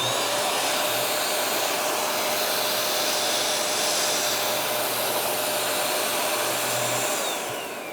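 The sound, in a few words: vacuum sealer pulling air out of a food bag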